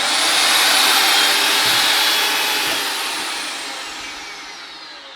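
A Bosch GWS 26-230 angle grinder with soft start running free with no load: a loud, steady high-pitched whine that slowly tapers off as the motor spins down.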